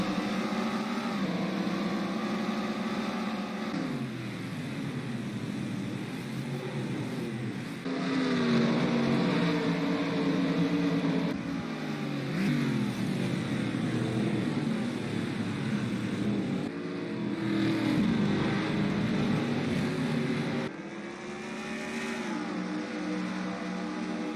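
Racing car engines in a racing video game wind up in steady, loud rising pitch, then drop and climb again with each upshift, several gear changes in succession with no talk over them.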